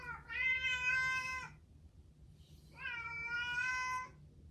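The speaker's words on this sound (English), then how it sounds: "My cat is screaming" A cat indoors lets out two long, loud, drawn-out meows with a short pause between them, close by and alone with no talking.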